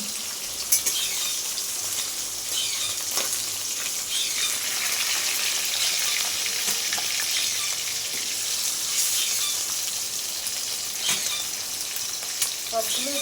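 Small loitta fish fry in oil in a wok, giving a steady, dense sizzle with occasional stirring clatter, close and continuous for several seconds without speech.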